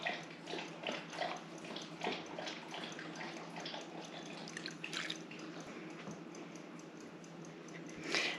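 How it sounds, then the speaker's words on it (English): Rendered beef fat tallow pours from a still-hot pot through cheesecloth, giving a faint, steady liquid trickle with light drips, alone and without talk. "I'm going to pick it up and just pour the rest in."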